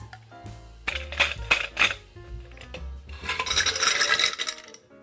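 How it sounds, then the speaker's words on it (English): Ice cubes drop into a glass for a dessert cocktail, first several separate clinks and knocks, then a louder rattling tumble of cubes, close and clear with no talk. "Then we will add our ice."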